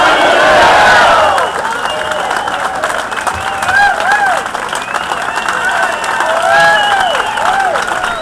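Crowd at a political rally shouting and cheering, loud voices yelling together in rising whoops and calls, with some clapping mixed into the near, energetic din.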